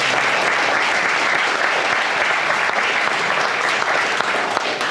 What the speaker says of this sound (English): So again, let's give Jeff a round of applause.